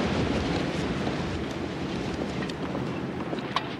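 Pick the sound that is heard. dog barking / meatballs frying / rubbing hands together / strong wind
strong wind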